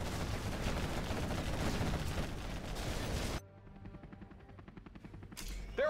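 Rapid bursts of gunfire as a base comes under attack in the video game Air games, loud and dense for about three seconds, then dropping to quieter game sounds with a brief burst near the end.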